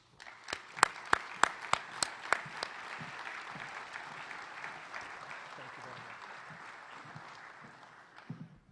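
An audience at a sustainability conference's opening plenary welcomes a speaker with applause. A few sharp, loud claps come first, then steady crowd clapping holds for several seconds before tapering off.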